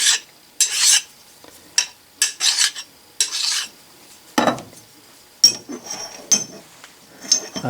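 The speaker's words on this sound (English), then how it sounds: "Take your file and deburr both sides" A hand file deburring both sides of freshly drilled steel pieces for a toolmaker's clamp, heard as a series of short, bright rasping strokes in irregular bursts, close and fairly loud, with a few light metallic clinks and no talk.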